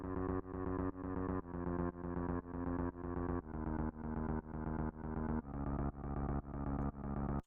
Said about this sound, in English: And then we also have a bass line.